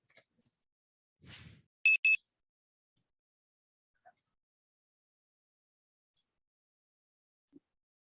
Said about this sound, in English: I'll start the timer now.